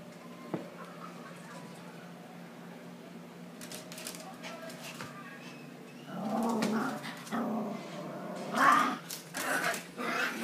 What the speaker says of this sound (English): That is why she's barking.